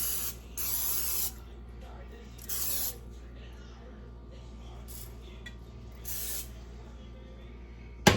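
Several short hissing bursts of cooking spray into a casserole dish, with a quiet room and faint clinks in between, ending in a sharp knock.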